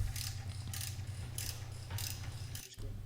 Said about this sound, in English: replace the 4 bolts, 2 on each side, and tighten these back to factory torque spec.